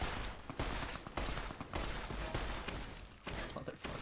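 Dense rapid gunfire from a gun in Fallout New Vegas crackles in sustained bursts with brief gaps, loud and continuous, with a voice faintly underneath.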